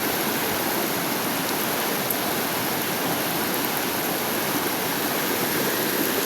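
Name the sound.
floodwater rushing on a slope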